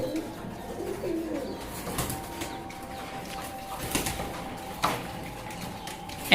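Fancy racer pigeons coo softly in a loft, low throaty calls mixed with occasional wing flaps and faint background noise.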